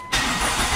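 A car engine starts abruptly during a scanner diagnosis of a real fault case, then settles into a loud, close, steady roar with nothing else heard.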